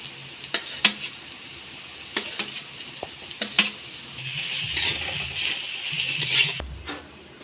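Onions hit a hot pan for egg chowmein, giving a soft sizzle that builds into a steady hiss, broken by several sharp metallic clinks of a utensil against the pan, before ending suddenly.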